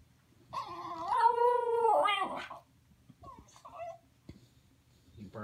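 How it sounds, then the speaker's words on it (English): A dog lets out a drawn-out howling whine, followed by a few shorter yelps and whimpers, fairly close in a quiet room. "You barking at the moon?"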